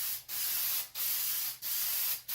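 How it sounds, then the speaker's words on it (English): Spray paint hisses from an aerosol can in four steady, fairly loud bursts, each about half a second long and separated by brief pauses, laid liberally and thickly over a surface for a paint effect. "I'm just going to go ahead and spray"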